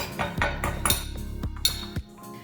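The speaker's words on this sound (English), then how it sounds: "So I'm just gonna crush them with a stick" White peppercorns being crushed with a stick, heard as a handful of sharp, ringing knocks and clinks against a hard vessel, close and fairly loud, spaced irregularly over a couple of seconds.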